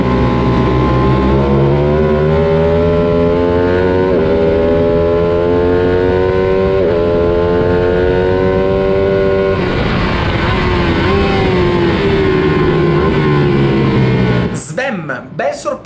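A Stock 600 racing motorcycle laps Misano circuit, its engine screaming loud and close with rising and falling pitch through gear changes, then cutting out abruptly near the end; a rider talks over it.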